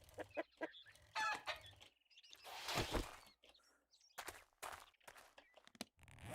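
A chicken clucks in the survival video game 7 Days To Die, short bursts of clucks and squawks scattered over several seconds, fairly faint with gaps between them.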